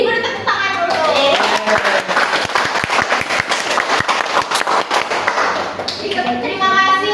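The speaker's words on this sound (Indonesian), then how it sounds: "Jadi beri tepuk tangan dulu." An audience at an evening community gathering bursts into dense, loud applause that holds steady for several seconds, with a voice speaking over the start and the end.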